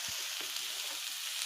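Vegetables, pumpkin stems with eggplant and potato, sizzle and fry in a pan while being stirred. A constant bright hiss runs throughout, with a few low scraping stir strokes near the start.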